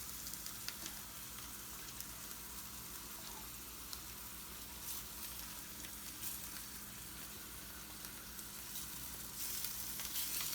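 Taco filling frying in a pan with a soft, continuous crackling sizzle that stays faint and even throughout, with no talking.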